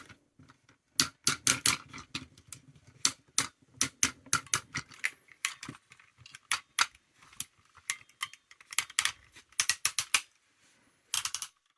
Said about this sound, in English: Now it's time to hear some of those powerful ratchets in action.